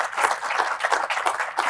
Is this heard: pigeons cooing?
no